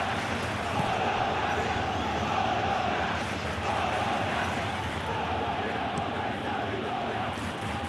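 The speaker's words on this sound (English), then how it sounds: "Crowd off their seats applauding Federico Bernardeschi." Serie A stadium crowd at Bologna versus Parma rising to applaud a substituted player, Federico Bernardeschi, a loud, continuous roar of clapping and cheering that fills the stands without letting up.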